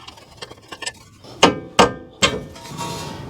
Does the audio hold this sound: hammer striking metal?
yes